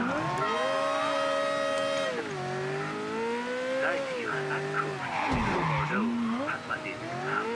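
Tires squeal as a car skids through a long, wavering slide in the video game Mafia 3, loud and close, with engine noise underneath and a rough scrape near the end.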